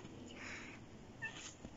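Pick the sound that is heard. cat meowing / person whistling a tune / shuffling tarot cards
cat meowing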